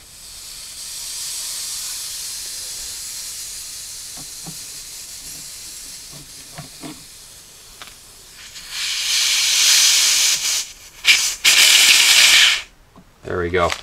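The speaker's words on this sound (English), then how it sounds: "we should be able to undo these plugs, and there will be a little bit of nitrogen that comes out" Nitrogen hisses out as plugs are pulled from an evaporator core during a Jeep Cherokee XJ heater core replacement, a steady broadband rush that swells loudly near the end, with small clicks of tools before it.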